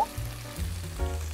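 Tofu and roasted pork frying in a pan, with a short burst of sizzling up close beneath low, tonal background sounds.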